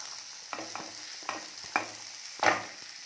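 Garlic, onion and green chillies sauté in a pan with a soft background sizzle, broken by several distinct stirring scrapes and clatters of a spoon against the pan, the loudest near the end.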